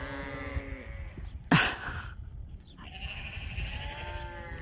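Fall ewe lambs bleating outdoors on a sheep farm, several moderately distant, wavering calls spread across the moment, with one sharp knock in between and steady low background noise.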